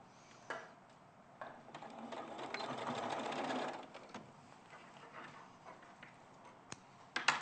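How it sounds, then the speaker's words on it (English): Domestic sewing machine running a steady buzzing stitch through fabric binding to the end of a straight-cut seam, close and fairly quiet, swelling in the middle before stopping, followed by a few small clicks. "if I just sew to the end"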